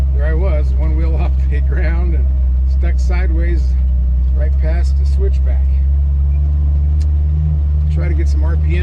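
A Jeep Wrangler's engine rumbles low and loud as it climbs an off-road trail, a steady heavy drone held throughout while someone talks over it almost continuously.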